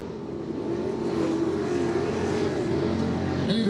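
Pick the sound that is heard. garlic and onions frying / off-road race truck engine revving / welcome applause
off-road race truck engine revving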